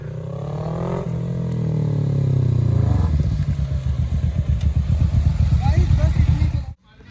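A stock Kawasaki ZX10R sport bike's exhaust, loud and close: a rising rev that drops off, then a rapid burbling, popping idle-like pulse, with a voice talking underneath before a sudden cut.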